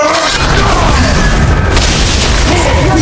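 A turret being destroyed in the Mobile Legends mobile game, giving a loud, dense booming crash that fills the whole span with sustained rumbling game effects and no clear speech.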